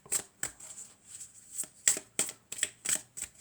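Angel oracle cards are shuffled and drawn in a run of about ten crisp, papery flicks and slaps, close and distinct, with quiet gaps and no talk.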